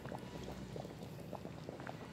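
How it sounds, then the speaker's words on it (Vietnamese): A pot of herring in tomato sauce bubbles at a strong boil, with continuous close, steady bubbling and popping and no voices. "cái nồi cá sốt cà chua nó sôi lắm rồi nè các bạn"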